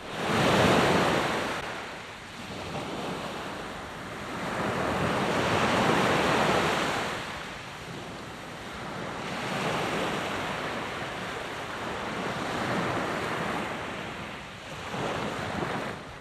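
Sea waves surge and recede in broad, slow swells, each a loud roaring wash that fades before the next, with wind buffeting the microphone and no voices.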